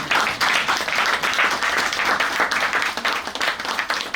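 An audience claps steadily and densely for a speech in Martinique, a close, continuous patter of many hands without pause, with faint voices barely present beneath it.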